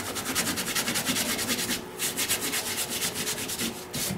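Sawdust is rubbed by hand into a small gap in a turned wood vase, making steady, close scratchy rubbing strokes in a quick back-and-forth rhythm that continue for several seconds with no talk.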